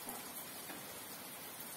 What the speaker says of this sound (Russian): Наконец-то дождик на Урале.